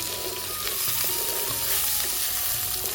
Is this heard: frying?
yes